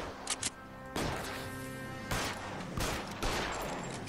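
Gunfire in the video game L.A. Noire, a few quick shots followed by several loud bursts of firing with echoing tails, close and dominant with no talking.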